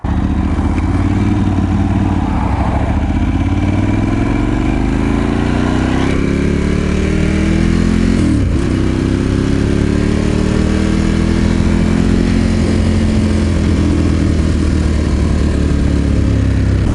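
Motorcycle ridden steadily home, engine droning loud and continuous at close range with a few gear-change shifts in pitch, no talking.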